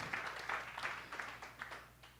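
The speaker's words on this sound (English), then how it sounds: "One more time, a round of applause." Audience applauding at the 2022 VinFast IRONMAN World Championship pre-race pro press conference, a fairly faint, steady wash of claps with a few louder bursts, heard from a distance over a low hum.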